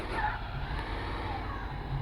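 A car engine in the video game Chicken Gun drones steadily, a loud continuous mechanical hum with a brief rise near the start and no speech over it.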